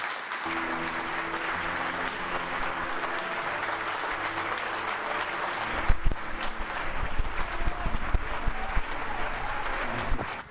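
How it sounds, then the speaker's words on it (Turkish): An audience applauds the guests Yıldız Kenter and Haldun Dormen with sustained, dense clapping that fills the room, growing a little stronger and more uneven toward the end, with a low musical hum underneath. "Alkışlayalım lütfen"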